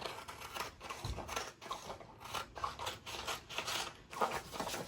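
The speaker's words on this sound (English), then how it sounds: "We'll use this paper scissors for that." Paper scissors cut roughly around a printed design on iron-on transfer paper, giving a quiet, close run of repeated snipping and paper rustle in uneven strokes, with no talk.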